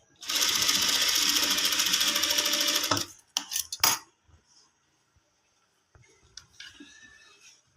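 A sewing machine stitches piping onto a sleeve in one loud, fast, steady run of rattling needle strokes for about three seconds, followed by a few clicks and handling noises.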